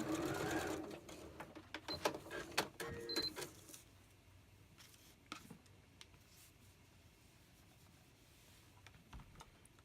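A sewing machine stitches quilt pieces for an Airstream quilt, with a loud run of rapid stitching at the start that fades into quieter, intermittent clicks and small handling sounds.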